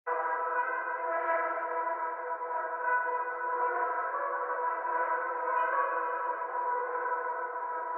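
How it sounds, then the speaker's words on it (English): Spitfire Labs trumpet sample playing trills, a steady, bright, brassy wash of layered tones that holds at an even, moderate level for eight seconds with no voices. "We found this cool trumpet. This is a Spitfire Labs thing,"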